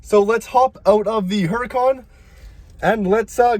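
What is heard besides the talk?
No distinct noise like a dog, phone or traffic.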